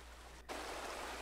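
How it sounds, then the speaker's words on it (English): A creek flows over stones with a steady, hissing, babbling wash. It is faint at first, and after a brief dip it swells louder and fuller, with no voices heard. "Water flowing on stones, chatters and sings."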